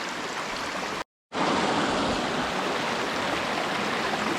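White water river pouring over rocks, a steady loud rushing roar that drops out briefly for a split second near the start, then carries on unbroken with no voices.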